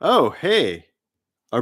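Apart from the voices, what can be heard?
No everyday noises stand out.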